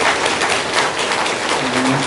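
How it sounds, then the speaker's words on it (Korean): Congregation applauding at a church service for a retiring senior pastor and a new pastor's installation, with a gift being presented; a steady wash of clapping, moderately loud, with faint voices underneath. "여러분 박수로"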